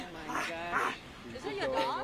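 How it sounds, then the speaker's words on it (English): A small puppy on a disc golf course during a tournament round gives high, whiny whimpers and short yips, close by and fairly loud, with a person talking over it. "Look at this little puppy."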